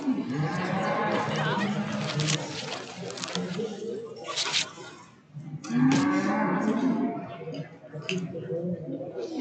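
Angus cattle moo repeatedly in a show ring, loud and close, with long low calls running over crowd chatter and an announcer's voice.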